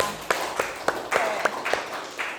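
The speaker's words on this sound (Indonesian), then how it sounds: "Beri tepuk tangan dulu dong sama Bimanya." A few students clap in a classroom during a physics lesson: sparse, uneven claps spread over a couple of seconds, moderately close, with faint voices in the background.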